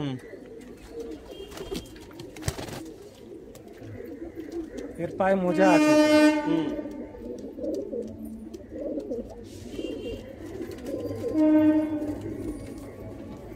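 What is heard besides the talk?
pigeons cooing in a loft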